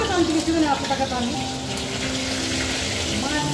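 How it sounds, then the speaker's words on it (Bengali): Desi koi fish are dropped into hot oil in a home kitchen pan, a bubbling, watery sizzle that rises loud at first and then settles into a steady fry. "তেলটা গরম হয়ে গেছে, এখন কই মাছগুলো দিয়ে দেওয়া হচ্ছে।"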